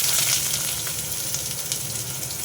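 Eggplant pieces sizzle and crackle steadily in hot oil in a wok, a close, continuous frying hiss with faint stirring and no voices.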